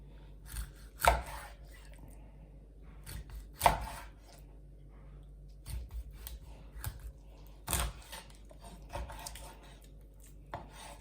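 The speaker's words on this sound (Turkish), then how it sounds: "Biraz daha kalın doğruyor ama ben hafif de ince doğrayacağım." Sharp knife chops strike a cutting board in uneven bursts, a few loud thwacks and lighter taps spaced apart, close by with no talking.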